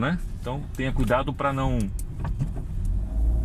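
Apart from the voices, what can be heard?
car traffic in Porto city centre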